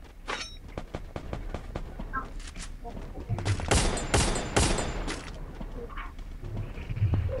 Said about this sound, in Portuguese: Tem outros caras atirando nele,